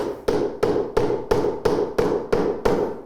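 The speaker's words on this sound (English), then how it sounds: "a little bit of prying, a little bit of tapping, everything should come off" A rally car gearbox casing being tapped apart: nine sharp, evenly spaced metallic knocks, each with a short ringing decay, close and clear with no voices.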